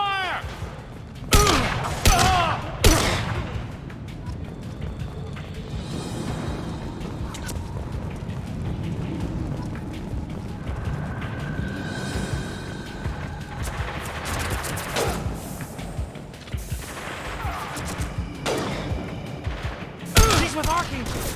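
Sustained firefight gunfire in Mass Effect 2, sharp repeated shots and heavier booms over a continuous battle din, with voices speaking through it.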